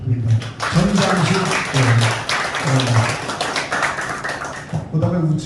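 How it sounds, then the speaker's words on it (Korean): An audience at a film production announcement applauds in bursts of clapping beneath someone speaking into a loud microphone. His voice breaks in repeatedly over the clapping. "다시 한번 박수 한번 부탁드립니다."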